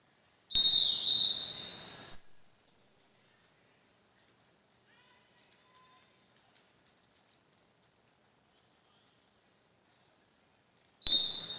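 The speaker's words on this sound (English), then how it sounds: "with that whistle from the jam timer, we're back into action" A jam timer's whistle at a roller derby bout gives a long, shrill blast at the start. Near-silence follows, then a second blast cuts in at the very end.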